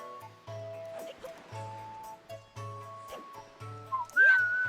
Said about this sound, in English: Whistles don't sound great in the microphone.